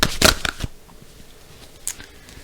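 Tarot cards are shuffled in a quick, close papery riffle at the start, then the sound falls to near quiet with one soft card flick later.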